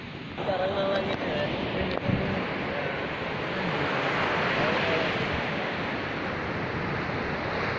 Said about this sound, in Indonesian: situasi di daerah pantai Karangmalang Kangkung